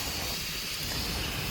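Air hissing from a Land Cruiser tyre being adjusted before desert driving, a steady broad hiss held at an even level throughout with no talk.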